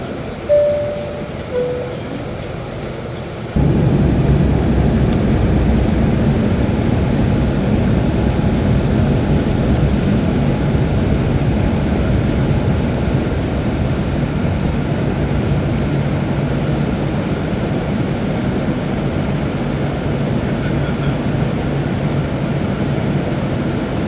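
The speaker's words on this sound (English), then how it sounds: "After takeoff from runway 8 right, I connected to the onboard Wi-Fi." Porter Airlines Embraer E2 jet taking off from runway 8 right, a steady loud broadband engine and rumble roar heard from inside the cabin, rising sharply after a few quieter seconds and holding constant.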